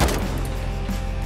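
Rapid gunfire in the survival video game Rust, loud and dense throughout the short burst, with no pauses between shots.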